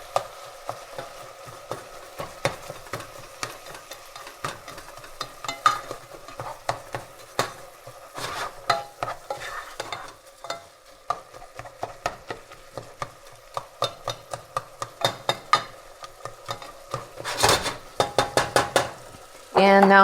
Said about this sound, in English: So I'm just going to stir it around a little bit